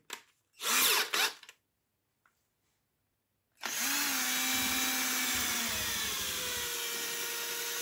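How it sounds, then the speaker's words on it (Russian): An electric drill or screwdriver stirs paint in a can, starting with a couple of short whirring bursts and then running steadily at high speed with a slight drop in pitch as it works, no talk. "Ну, теперь берете трельку или шуруповерт."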